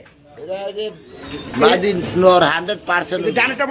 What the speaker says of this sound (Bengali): ভাই এখানে দেখতে পাচ্ছি একজন মেঘপাই কবুতর